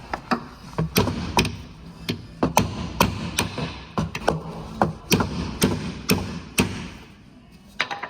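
A hammer strikes a socket to drive a wishbone bush into a VW Tiguan, giving a series of close, sharp metallic knocks and dull thuds at an uneven pace, some in quick pairs, with a brief pause near the end.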